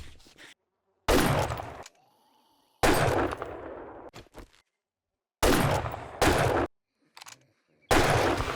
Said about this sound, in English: I have 11 shots now, so this makes it so much easier just shooting without stopping